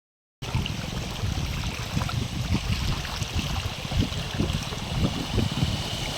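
Water rushes steadily through a channel after heavy rain at a cow shelter in Gir, a loud, continuous, close churning wash with no voices.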